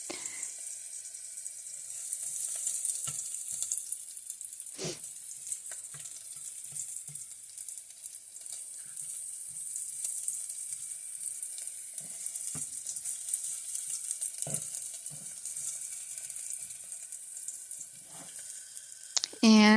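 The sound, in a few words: ingredients sautéing in a pot for navy bean soup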